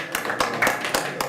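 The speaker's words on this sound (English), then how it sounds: "Clap 3 times if you can hear me. Clap 4 times if you can hear me." A crowd claps together in several quick, sharp bursts, evenly spaced, with faint chatter underneath.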